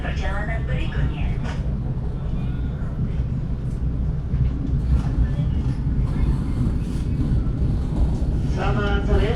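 Argo Parahyangan passenger train running from Bandung toward Gambir station in Jakarta: a continuous low rumble heard from inside the train, steady and fairly loud, with voices speaking at the start and again near the end.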